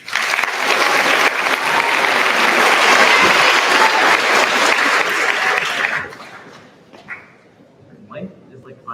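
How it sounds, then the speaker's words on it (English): Sustained applause from the audience at a middle school graduation ceremony, dense and loud for about six seconds before fading to scattered claps and quiet room noise. "So honestly, give yourself a round of applause."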